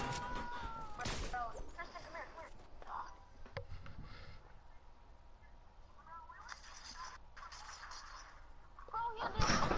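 Gunfire from an infantry rifle rings out in a multiplayer video game as short bursts and scattered single shots, with a louder burst near the end, under game noise and mixed with players talking.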